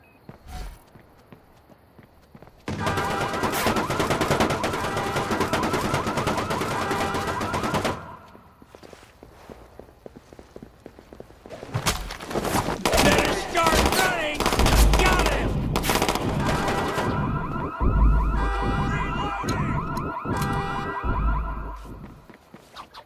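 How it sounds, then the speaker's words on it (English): Gunfire in the video game Watch Dogs 2, loud sustained bursts of rapid automatic shots in two long stretches over game sound effects, with quieter gaps between. "Taking fire!"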